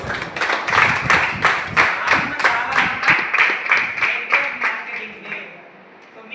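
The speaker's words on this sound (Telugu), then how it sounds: "ఒకసారి గ్రాండ్ క్లాప్స్" An audience at an open meeting claps in a fast, even rhythm of crisp claps, loud and close, that fades away near the end.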